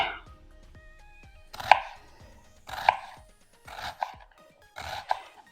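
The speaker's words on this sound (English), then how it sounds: "I'm going to slice it, chop it as finely as I can" A knife finely chops a small sweet onion on a board in a few close, sharp bursts of quick cuts, with quiet pauses between them.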